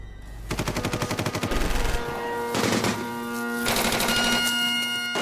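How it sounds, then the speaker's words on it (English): Rapid bursts of machine-gun fire rattle loudly in a wartime attack on a fortress in Italy, then give way to sustained, dense gunfire with the droning tone of bagpipes playing Highland Laddie underneath. "The air echoed with gunfire"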